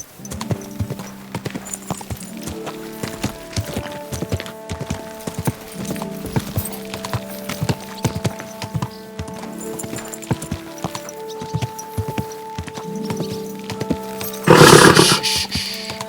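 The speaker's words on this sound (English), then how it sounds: "Easy, good horse." A horse walks with steady clip-clop hoofbeats in the medieval video game Kingdom Come: Deliverance 2, with low tonal game music beneath and a short, bright neigh near the end.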